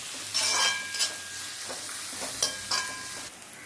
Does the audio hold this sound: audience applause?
no